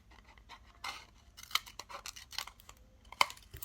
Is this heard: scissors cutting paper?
yes